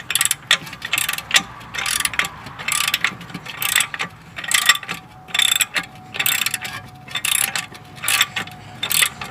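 A hand ratchet on a hard-to-turn welded-in nut on a car's motor mount clicks in loud, close bursts of rapid pawl ticks, stroke after stroke in a steady rhythm.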